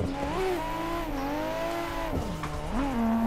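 Drift car in the Assetto Corsa racing game, engine droning steadily with pitch swoops as revs rise and fall, continuous tire squeal throughout, loud and close with no voices.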